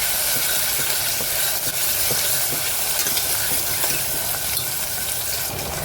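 Onion, tomato and green chili frying in hot oil for a Tamil poricha kuzhambu, a steady close sizzle and hiss with occasional stirring scrapes of a spoon in the pan throughout.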